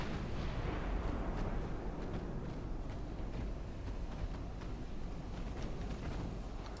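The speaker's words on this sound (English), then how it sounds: "She's shooting back at the Rodney." Heavy naval guns fire in the video game Ultimate Admiral Dreadnoughts, giving a dense run of deep booms and rumbling blasts that overlap continuously and fade slightly toward the end.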